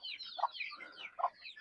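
Native country chickens on a farm cluck at feeding time, with close, short clucks mixed with higher chirpy calls over about two seconds and no voices.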